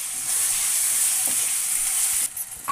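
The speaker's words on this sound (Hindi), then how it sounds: "अब इसी में इसे भूनूँगी मसाला को" Masala with turmeric and chilli powder frying in a pan, a loud steady sizzle close up, briefly broken near the end by a stir, with no talk.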